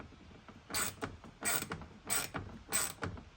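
A screw is driven into plastic while installing a speaker in a 2019 fifth-generation Ram 1500 truck, heard as four close, faint bursts of ratcheting clicks.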